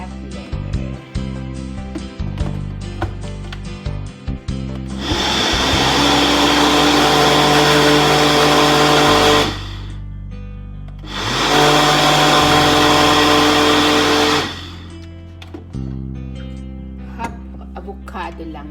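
A blender whirs loudly in two long bursts of about four seconds each, blending melon, banana, avocado and yogurt, separated by a brief pause, with quieter sounds before and after.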